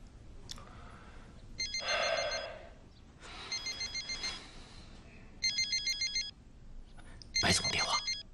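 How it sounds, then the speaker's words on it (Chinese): A telephone rings indoors in a drama scene, repeating electronic ringtone bursts in four separate spells with pauses between, fairly loud and close. "白总电话，是来投资的客商，快接。"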